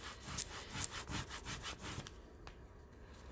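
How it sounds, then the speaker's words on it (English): A squeegee rubs transfer tape down onto matte black 651 vinyl in a series of soft, rapid rasping strokes. The strokes are faint and close, then trail off into near quiet. "And we got our handy dandy squeegee."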